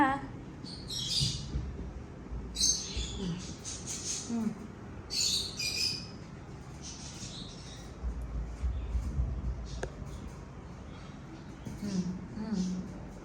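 A myna bird gives repeated sharp squawks and chirps close by, with people talking and background noise running underneath.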